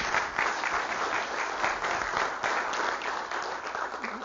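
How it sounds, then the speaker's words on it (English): A teacher conference audience applauds to welcome a speaker to the stage. Sustained, dense clapping from a crowd holds strong and even for several seconds with no talk over it. "I'd like it when people clap for me"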